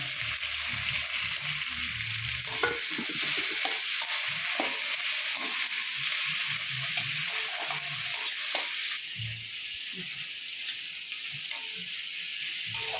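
Chopped tomatoes and slit green chillies frying with garlic in a pan for egg curry, a continuous close sizzle broken by occasional stirring scrapes.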